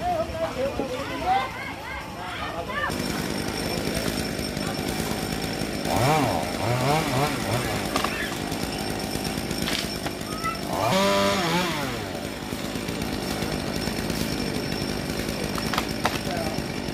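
A chainsaw drones continuously while cutting a large flame tree, its engine steady with a few rising revs, and people talk over the noise at times.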